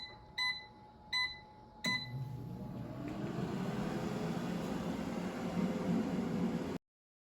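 Three short electronic beeps from an air fryer's control panel as temperature and time are set, each clear and evenly spaced, followed by the steady rising whoosh of the fan and heater starting up.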